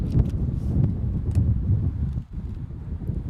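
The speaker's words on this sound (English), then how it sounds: "Once again, it's pretty windy out here." Wind buffets the microphone at an outdoor cricket ground during an over-60s England versus Canada match, a low, rumbling roar that surges and dips briefly, with no voices.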